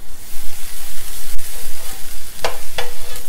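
Homemade white butter melts in a tawa preheated for a veg pizza, giving a loud close sizzle with soft stirring noises and a couple of sharp crackles, and nobody talks.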